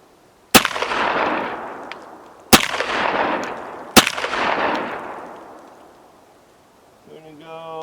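Three loud Mossberg 930 JM Pro shotgun blasts firing buckshot at targets, spaced about 1.5 seconds apart, each with a sharp crack and long rolling echo outdoors, followed by a brief tonal beep.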